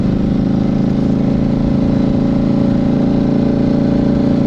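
A 2009 Buell 1125R motorcycle engine holds a steady, loud mid-pitched drone at around 2,500 RPM, its even harmonic hum continuous and close, with no voices.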